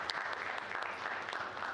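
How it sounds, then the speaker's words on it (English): Applause from an audience at a talk on artificial intelligence, a steady wash of many hands clapping at moderate volume through the whole moment, with no voices over it. "So let's give a big round of applause again."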